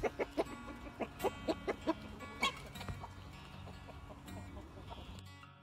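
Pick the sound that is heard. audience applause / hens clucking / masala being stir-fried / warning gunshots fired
hens clucking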